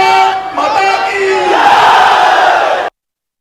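At an outdoor political rally in West Bengal with Amit Shah, a huge crowd roars back in unison to the call of "Bharat Mata ki", a loud sustained mass shout that swells and then cuts off abruptly.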